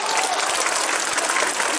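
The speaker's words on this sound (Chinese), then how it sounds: "同样，再次掌声响起，预祝我们今晚的演唱会圆满成功。" Audience applauding at a Peking opera concert, a dense, sustained wash of many hands clapping together, loud and even throughout.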